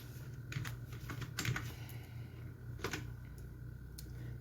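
Computer keyboard keys clicking in brief bursts while HTML code is typed, with steady hum underneath and quiet pauses between clusters of keystrokes.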